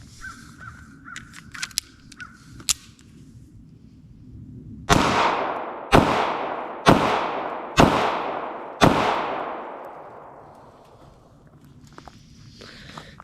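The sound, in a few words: Bodyguard 2.0 .380 pistol firing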